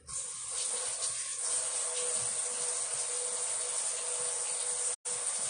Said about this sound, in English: Scrubbing, scrubbing, scrubbing.